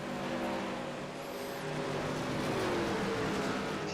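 Racing trucks roar around the Gateway oval in a video game race, a continuous, fairly faint engine drone with pitch sweeps as trucks pass and shift, no voices.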